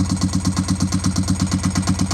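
A motorcycle engine idles at about 1,000 rpm while warming up, running on a new budget battery with a little brake fluid smoking off it, a loud, steady low thrum with even rhythmic pulses throughout.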